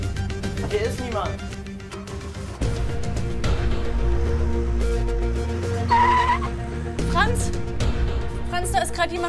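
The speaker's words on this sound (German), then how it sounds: "Jemand mit dem Auto weggefahren." A car engine revs and its tires squeal as it pulls away, mixed with tonal, music-like sounds and a low rumbling drone.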